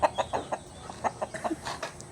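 Native chickens cluck in a rapid, uneven series of short, fairly close calls, with a steady low murmur of background noise beneath them.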